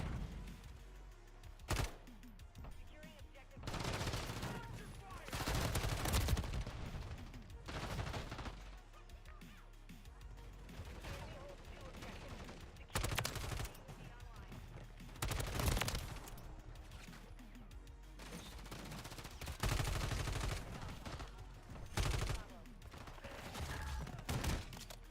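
Dense gunfire from a Call of Duty video game, with rapid bursts and heavy volleys returning again and again over a steady game soundscape.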